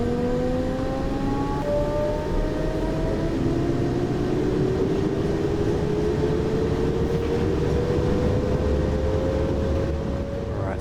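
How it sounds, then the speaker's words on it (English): A train moving under power in Train Sim World on the Rhein-Ruhr main line, with a loud steady rumble and rising whining electric motor tones as it accelerates, with no talking. "Apply some power. And let's get train moving, shall we?"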